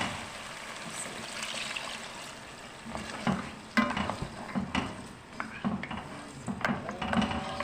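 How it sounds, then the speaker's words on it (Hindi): Broth (yakhni) poured into mutton trotters (paya) frying in a pot, with steady sizzling, stirring and spoon scrapes against the metal pan, close and clear with no talk. "अब हम इसमें डाल देते हैं यखनी,"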